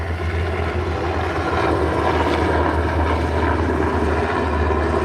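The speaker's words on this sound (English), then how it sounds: "I'm just sitting out here watching airplanes take off and fly" An airplane taking off nearby, a loud, steady engine roar with a deep low rumble filling the whole stretch without pause.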